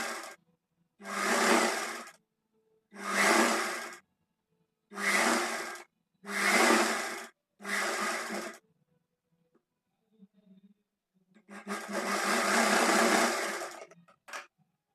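A sewing machine stitches a Punjabi dress top in five short, even bursts of whirring with brief pauses between them, then a quiet gap before one longer, sustained run.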